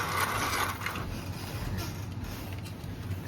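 An O gauge model train locomotive motor runs under power, a steady mechanical whir and grinding hum with rattling gear noise, close and continuous.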